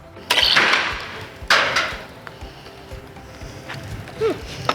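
A crossbow arrow shot at a roof-coating target whooshes through the air and lands with a sharp impact, two loud bursts close by followed by quieter rustling and a faint later thud.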